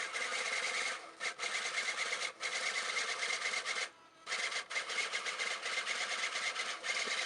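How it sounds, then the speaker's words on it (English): A printer hooked to a Timex 1500 computer chatters in fast, continuous mechanical bursts, broken by a few short pauses as lines advance, steady and fairly loud with no talking. "we hit enter, and it is printing"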